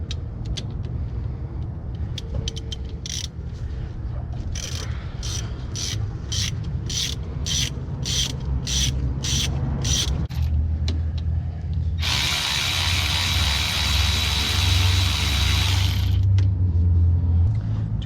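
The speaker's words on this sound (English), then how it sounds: "Take your 15mm. You have 2 bolts here on the back of the caliper. Go counterclockwise to loosen them." A 15mm ratchet loosens the rear brake caliper bolts on a 2005-2009 Buick LaCrosse, producing a rapid, evenly spaced run of close ratchet clicks, followed by a longer continuous grinding whir of the bolt spinning out.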